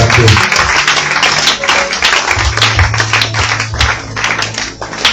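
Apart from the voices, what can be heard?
congregation applauding and acclaiming God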